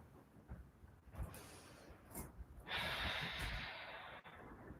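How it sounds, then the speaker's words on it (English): Deep breathing during a yoga flow, slow audible inhales and long airy exhales close by, quiet with no talking. "Try to keep on with your deep breathing."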